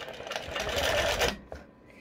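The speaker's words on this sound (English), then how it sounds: "I'm simply going to stitch down my quilt top all the way to the end" Sewing machine stitching down a quilt top in a short steady run of close mechanical whirring that stops abruptly, followed by a faint click and quiet room tone.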